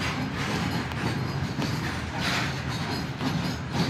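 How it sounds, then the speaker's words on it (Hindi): A passenger train heading to Guwahati rumbles along at speed, a dense steady roar with faint rhythmic clatter from the wheels, heard from inside the carriage. "तो अभी इधर का 12 बजे जा रहा है ट्रेन, ट्रेन जा रहा है हम लोग का।"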